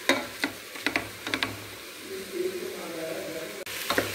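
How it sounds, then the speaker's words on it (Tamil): A spoon scrapes and knocks in a pan as a green peas pulao mixture is stirred, sharp scattered clinks over a soft sizzle, with brief talk in the background. "நல்லா பரட்டி விட்டுக்கலாம்."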